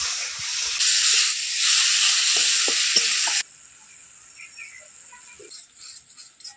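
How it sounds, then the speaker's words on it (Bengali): A spice paste of tomato and coriander powder sizzles loudly in a hot pan with a strong steamy hiss, then settles into a quieter crackle while it is stirred. "মশলাটা বেশ ভালো করে কষিয়ে নেব"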